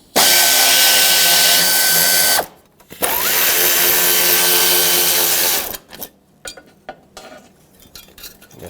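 A cordless power tool spins out 10mm bolts from a 2013-2020 Nissan Pathfinder's radiator core support, two loud whirring bursts separated by a short pause, followed by scattered clinks and handling noises.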